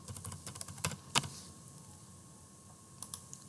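Keystrokes on a computer keyboard during a software session, clustered in short bursts of close clicks with a pause before a few final taps.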